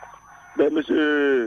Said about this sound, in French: on entend le coq chanter, ça nous fait vraiment plaisir.